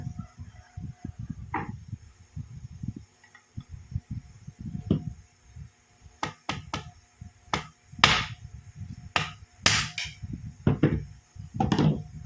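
A rivet on a Lumilites PAR LED light is knocked out using pliers and a flat screwdriver, producing a series of sharp metallic taps and clicks, some single and some in quick clusters, over a quiet background.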